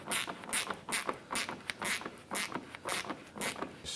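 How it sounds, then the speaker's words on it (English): A 10mm socket wrench snugging down a bolt on the bumper clip of a 2004-2008 Acura TL, giving a steady series of about a dozen quiet ratcheting clicks in even rhythm, close and alone. "We're going to use our 10mm socket to go ahead and snug this bolt down to that clip."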